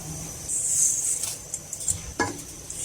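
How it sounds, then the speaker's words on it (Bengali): Red lentils and spices briefly frying in a pan, a steady close sizzle with scattered stirring scrapes and clinks of a spoon against the pan, no talk. "সমস্ত উপকরণ একটু ভাজি করে নিচ্ছি"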